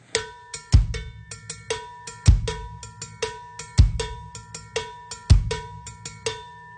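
Cowbell played in a Latin rhythm pattern, alternating between the open mouth and the narrow tip of the bell, sharp metallic strikes repeating in a steady groove, close and clear with no talking.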